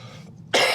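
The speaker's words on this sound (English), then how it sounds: "Excuse me again, coughing." A man with a bad bug gives a single short, harsh cough close to the microphone, a sudden loud burst after a moment of near quiet.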